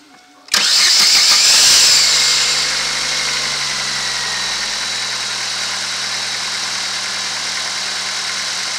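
A car engine cranks over with a loud starter burst, then settles into a steady idle that holds for several seconds, close and alone without voices.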